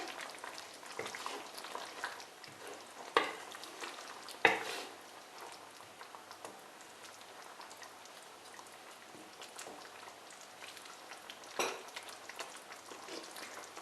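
Potato and cauliflower curry with ghee is stirred in a pan, giving a soft, steady sizzle broken by a few sharp scrapes and knocks of the spoon against the vessel, all fairly quiet with no talk.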